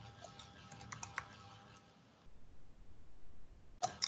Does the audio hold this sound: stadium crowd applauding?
no